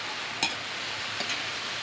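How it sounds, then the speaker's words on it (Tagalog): Squid adobo in vinegar being stirred in a pan as it cooks, with a soft steady sizzle and two brief scraping strokes of the spoon, no talk. "Tapos paghaluin siya hanggang sa ito'y maluto"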